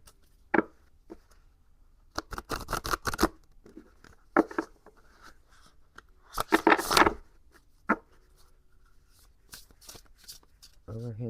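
Oracle cards from a Gallery of Hallucinations deck being shuffled by hand, with several bursts of crisp riffling and flicking of card stock spread across the stretch, plus quieter taps and handling between them.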